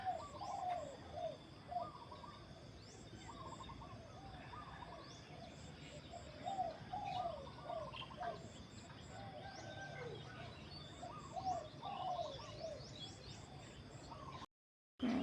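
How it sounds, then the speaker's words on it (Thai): Birds calling outdoors in the morning: repeated soft coos of a dove mixed with scattered chirps and tweets, moderately distant, over a low ambient hum. "ชมบรรยากาศยามเช้านะคะเสียงนกเสียงกา"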